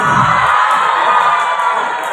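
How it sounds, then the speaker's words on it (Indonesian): A crowd at a Muharram religious school event shouts and cheers loudly and continuously throughout, a dense wash of many voices. "Ini kok pada teriak?"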